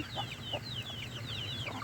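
Chickens cluck faintly and quietly in a rural yard, with soft repeated clucks and high peeping chirps over a low background hum.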